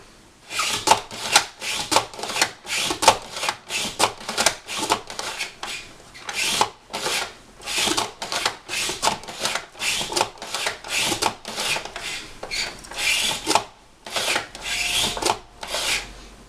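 Carrots are pushed through a kitchen vegetable slicer, producing bursts of crisp rasping cuts in an uneven rhythm of short strokes with brief gaps, close and loud, with no one talking.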